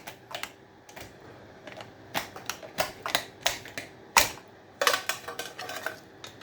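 Brittle aluminium is being cut away from an old electric motor during scrapping, producing a run of sharp, irregular metallic clicks and snaps, close and fairly quiet.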